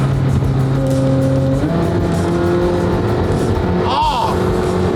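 A loud tuned car exhaust rumbles and drones nearby, its note shifting pitch as it revs, with a brief whoosh of passing traffic.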